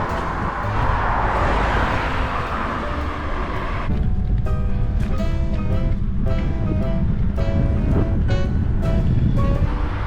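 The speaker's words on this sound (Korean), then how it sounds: "바람이 엄청 강하게 붑니다" Strong sea wind gusting across an open peninsula in Denmark, a loud continuous roar that thickens and deepens midway, with faint tonal whine layered over it.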